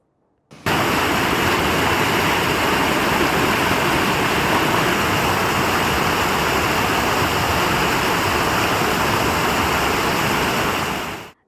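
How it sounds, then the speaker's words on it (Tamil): Panchalinga falls near Udumalai in flood after heavy rain, a loud, steady roar of rushing water pouring without pause for about eleven seconds, broadband and close, with no voices. "உடுமலை அருகே பெய்த கனமழை காரணமாக பஞ்சலிங்க அருவியில் வெள்ளப்பெருக்கு ஏற்பட்டது"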